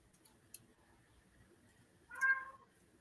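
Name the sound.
cat meowing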